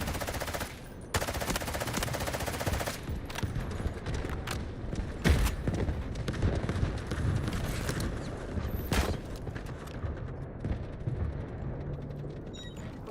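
Gunfire in the video game Delta Force during a battle over a sector: loud, close automatic bursts and single shots crack out repeatedly, with mechanical clatter and a rumbling battlefield backdrop.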